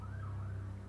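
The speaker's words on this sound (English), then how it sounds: "A police siren just came on right outside my window, just as I said that." A police siren sounds outside a window, a faint wavering tone over a steady low hum, distant and muffled, with no talk.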